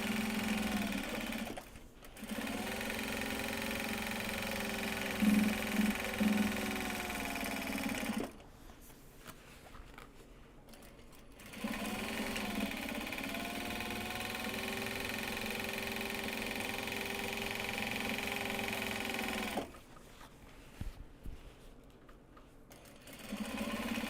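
A sewing machine stitches project bags from Japanese fabric, running in long steady bursts with two brief pauses, a constant mechanical hum close and clear with no voices.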